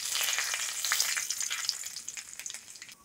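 Bay leaves and whole cumin crackle and sizzle in hot oil left over from frying fish heads, a dense, bright spatter of small pops, close and steady, fading slightly at the end.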